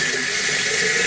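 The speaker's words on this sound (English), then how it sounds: "I'm filling up whatever containers I have" Tap water runs steadily into containers, a continuous close splashing hiss with no voices over it.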